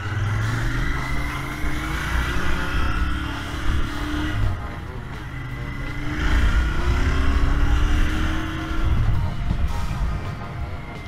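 A Royal Enfield 650 twin, Interceptor or Continental GT, hums steadily on a test ride, its engine note rising and falling as it pulls, up close with wind and road noise around it.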